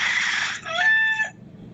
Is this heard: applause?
no